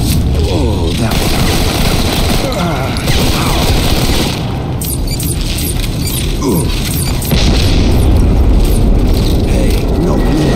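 Heavy explosions and crashing booms from a bomber airstrike in the MC5 video game, with repeated impacts and mechanical clatter over about ten seconds, loud and dense, with a voice talking in places.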